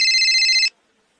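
A telephone rings with a steady electronic tone for about two-thirds of a second, loud and close, then cuts off into near silence; faint background murmur sits beneath it.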